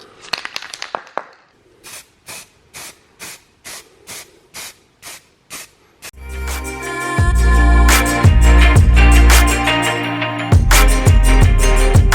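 An aerosol can sprays matte black paint onto a custom headlight intake for a Polo GTI track car: a rattle, then a rhythmic series of short hissing bursts, followed by a long continuous loud spray close to the microphone.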